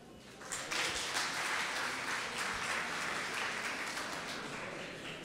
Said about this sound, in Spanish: Un aplauso para Alex.